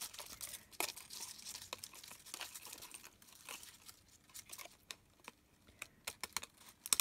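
Aluminium foil is cut and handled for crafting, giving close, quiet crinkling and snipping with irregular crackles and small taps over several seconds.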